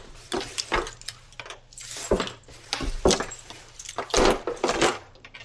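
Van keys jangle and clink in irregular bursts as someone rummages for them, with a faint low hum underneath and no clear talk.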